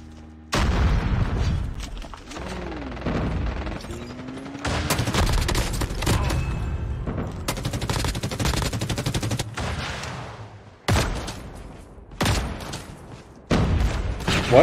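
Dense Fortnite gunfire with bursts of automatic fire and heavy sniper shots, loud and close, arriving in clustered volleys with brief pauses and a few booming impacts.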